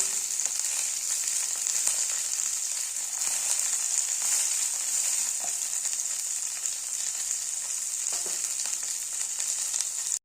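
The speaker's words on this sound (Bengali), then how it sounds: "বেগুনগুলো খুব ভালো করে ভাজা হয়ে গেছে" Eggplant slices frying in hot oil, as a Bengali bitter-gourd vegetarian dish is cooked alongside potatoes; a steady, bright sizzle fills the whole stretch with faint scattered pops and no talking.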